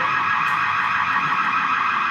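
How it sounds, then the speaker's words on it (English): A wireless home security system alarm sounds a loud, continuous electronic tone without pause, harsh and buzzing. "I'm gonna set it off, and the alarm should go off right away"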